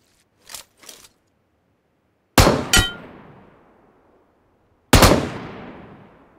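Gunfire in PUBG Mobile: two quick faint shots, then two sharp loud cracks with ringing metallic tails and a final loud report, each decaying slowly into silence.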